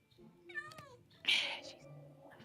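A Minecraft cat gives a short meow, then a louder rising meow, faint and mixed with soft game sounds.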